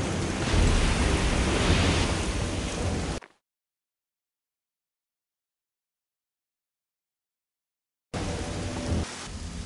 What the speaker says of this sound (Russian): В такую грозу?